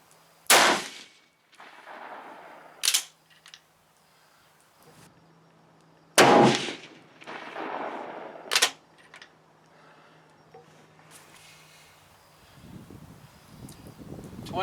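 Two sharp rifle shots with GP-11 ammunition at an outdoor shooting range, each a loud close crack with a brief echo, separated by bolt clicks, metallic handling clatter and a faint hum.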